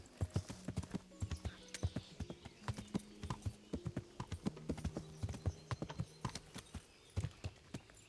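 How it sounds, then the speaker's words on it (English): Horse hooves clip-clop in a rhythmic, fairly quiet stream through a medieval video game world, with a few brief tonal game sounds layered over the steady footfalls. "It's a horse."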